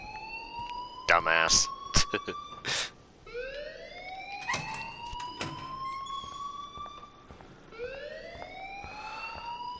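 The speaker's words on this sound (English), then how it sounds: "please turn off that alarm since that's your job" A school alarm rings in Life Is Strange, rising and falling siren-like electronic sweeps repeating across the scene, moderately loud under a voice and game sounds.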